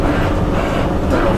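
An EP1 electric locomotive starts to move under traction, a dense, loud rumbling drone with a faint rising whine, continuous and close from the cab.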